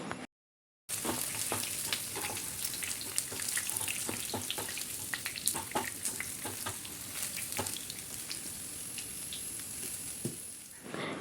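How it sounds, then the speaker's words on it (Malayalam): Crushed ginger and garlic hit hot oil and crackle busily in a pan, with sharp pops and spits over a steady sizzle. The sound stays close and continuous for several seconds, with no talking. "ഇനി ആ എണ്ണയിലേക്ക് ഇഞ്ചിയും വെളുത്തുള്ളിയും ചതച്ചത് ഇട്ട് കൊടുക്കുക."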